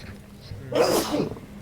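A single sharp sneeze bursts out after a brief quiet intake, loud and close.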